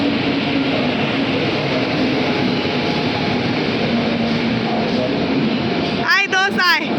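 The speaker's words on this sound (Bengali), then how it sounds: "একটা ট্রেন ঢুকলো" A train pulls into a busy Indian railway station, its steady broadband rumble and rolling noise filling the scene for several seconds before a voice starts speaking near the end.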